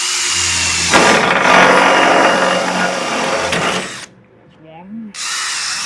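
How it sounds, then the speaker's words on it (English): Drilling plug weld holes into the steel body of a 1969 Camaro: a loud power drill whines steadily for about three seconds, then stops and briefly gives way to a quieter pause before noise resumes. "We'll drill out our plug holes right here."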